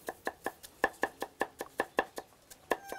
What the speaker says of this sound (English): And it's chopping.